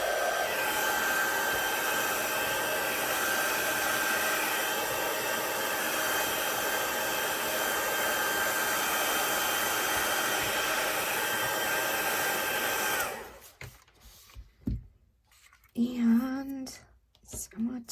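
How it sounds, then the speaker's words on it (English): A handheld embossing heat tool blows steadily and loudly over a stamped card for about thirteen seconds, then cuts off, leaving faint handling noises and a voice speaking briefly. "And then again, zap it with my heat tool."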